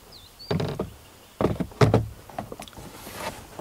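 Plastic glove box of a Suzuki Grand Vitara knocked and snapped onto its hinges, a few sharp close thuds and clicks with small rattles between them.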